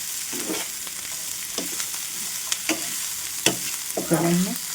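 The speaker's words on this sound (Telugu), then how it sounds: "అటు ఇటు తిప్పుకుంటూ చక్కగా ఫ్రై చేసుకోవాలి" Carrots and sweet corn sizzle in a hot pan while a spoon scrapes and tosses them in several separate strokes, the last one louder.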